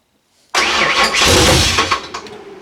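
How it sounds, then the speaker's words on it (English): A Ford engine fitted with a Holley Sniper fuel injection system cranks and tries to start. After a brief silence it bursts in loud and close, churns unevenly for about a second and a half, then falters and fades. "the RPM started moving and it actually tried to crank"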